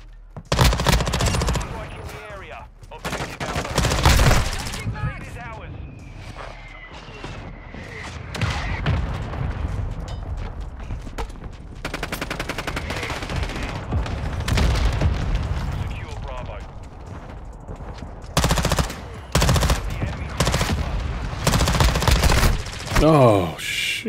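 Bursts of BAS-P submachine gun fire from Call of Duty Modern Warfare 2 in a Shoot House match, rapid automatic volleys with explosions and game effects, broken by short pauses and mixed with in-game voice callouts.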